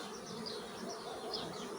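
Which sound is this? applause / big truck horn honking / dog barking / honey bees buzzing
honey bees buzzing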